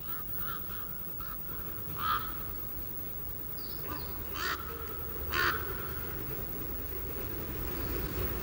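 Ravens cawing in a La Palma pine forest, several harsh calls spaced across the stretch over a steady outdoor background, moderately distant and fairly faint.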